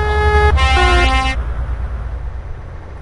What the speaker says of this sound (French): Oh, mon klaxon